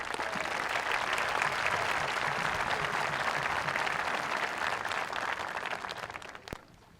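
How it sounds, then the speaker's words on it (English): Sustained applause from a graduation audience honoring the teachers, a dense steady clatter of many hands that holds strong for about six seconds before thinning out at the end. "A round of applause for the teachers."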